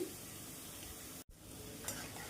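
Boondi, small droplets of gram-flour batter for sweet-shop style boondi mithai, fry crisp in hot oil with a steady, close sizzle and faint stirring, broken by a brief silent gap near the middle.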